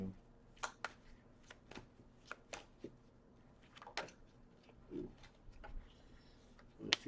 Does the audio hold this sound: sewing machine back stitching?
no